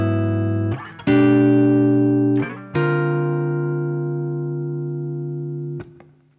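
Guitar with sensational intonation rings out sustained chords high on the neck, three strummed in succession with long even decay, loud and close, ending in a short muted scrape with no talking.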